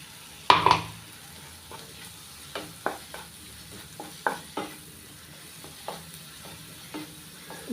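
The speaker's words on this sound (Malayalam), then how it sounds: "ഇനി കുറച്ച് തക്കാളി കൂടി ചേർത്ത് കൊടുക്കാം." Blended tomato puree sizzles softly in a pan while making palak paneer, with a sharp initial splatter followed by repeated light scrapes and clinks of a spoon stirring at an uneven pace.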